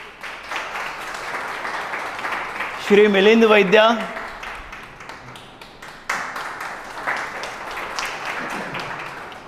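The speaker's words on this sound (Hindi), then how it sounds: "उनका हम स्वागत करते हैं जोरदार तालियों से" An audience at a camp gathering applauds to welcome visiting corporate supporter guests, with a steady wash of clapping running through the clip while a voice speaks over it.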